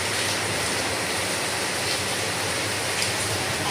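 Steady rainfall hisses evenly and loudly with no breaks, a broad, constant wash of sound with no talking.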